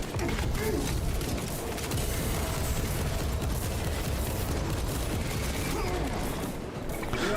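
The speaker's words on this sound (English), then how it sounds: "let me get my grenade launcher" A grenade launcher keeps firing in Space Marine 2 amid dense, continuous battle noise, with thumping blasts and mechanical clatter layered over a loud roar.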